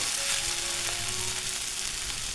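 Pointed gourd (potol) frying with shredded fish in a pan, a loud, even, continuous hiss of hot oil held close, with no talking.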